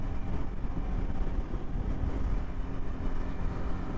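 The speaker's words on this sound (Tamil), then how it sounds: "ஸோ இந்த ட்ரெயின் இப்போ புதுசாக ரீசெண்டாக விட்டுருக்காங்க." A new train runs near the Pamban bridge by the sea, producing a continuous low, rumbling roar that stays steady and fairly close throughout.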